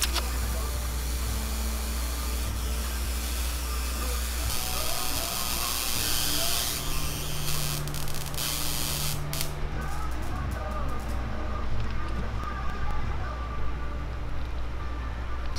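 An aerosol can sprays clear coat onto a handmade creek chub fishing lure, a loud continuous hiss held close to the mic for the whole stretch, shifting slightly in tone as the spray moves.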